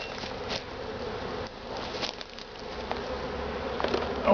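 Honey bees buzz around an open hive during an inspection, a close, steady swarm of droning wings with a few brief rustles and taps.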